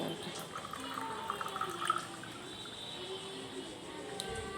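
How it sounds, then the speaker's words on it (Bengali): Washed masoor lentils are poured into a pot for a traditional Bengali banana-flower dal, a soft wet pouring and sloshing of water and grains, close and quiet, lasting a few seconds. "ডালটা ভালো করে ধুয়ে নিলাম। ঢেলে দিচ্ছি"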